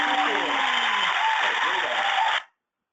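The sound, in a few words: webinar round of applause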